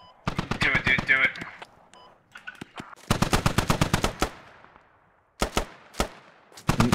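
DShK heavy machine gun in the video game Squad, hammering out several rapid bursts of loud close shots with short gaps between them, some tails echoing, a voice speaking briefly early on.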